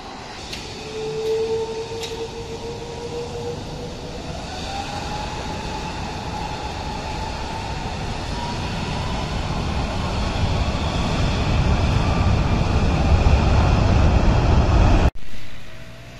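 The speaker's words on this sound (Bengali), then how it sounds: "এয়ারবাস মডেলের এই বিমানটি এখন উড়ে যাবে মালয়েশিয়ার রাজধানী কুয়ালালামপুরে।" A US-Bangla Airlines Airbus airliner bound for Kuala Lumpur takes off from Hazrat Shahjalal International Airport in Dhaka, its engines swelling from a rising whine into a loud, building roar that cuts off abruptly near the end.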